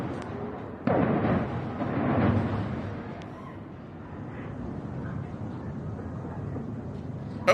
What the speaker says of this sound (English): let's listen to those booms